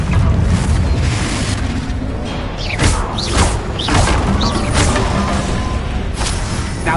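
Confringo blasting spell in Hogwarts Legacy, a loud sustained rumble of explosive bursts and crackling debris with repeated whooshing impacts, dense and continuous throughout.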